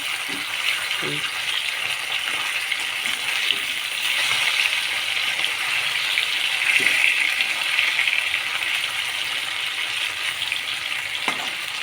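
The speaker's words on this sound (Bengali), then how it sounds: "আমার মাছটা কত সুন্দর লাল লাল ভাজা হয়ে যাচ্ছে" Snakehead (shol) fish frying in a pan of oil, a continuous bright sizzle and spatter held close for the whole stretch, with occasional soft utensil taps and no clear talk.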